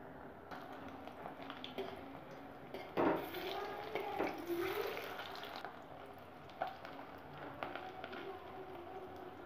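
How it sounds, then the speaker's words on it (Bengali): Fish roe fries in a pan over a medium gas flame with a faint, steady sizzle, broken by a few clinks and stirring sounds and some background voice. "আগে আমি 1 কটা ভেজে নেব, তারপর আবার বাকিগুলো ভাজবো।"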